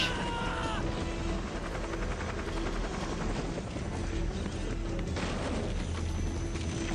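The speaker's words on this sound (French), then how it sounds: "Le skin d'hélico. C'est un Hind en plus hein, je crois." Hind helicopter in Metal Gear Solid 3, a steady rotor and engine drone with rhythmic chopping, heard loud and continuous with no speech.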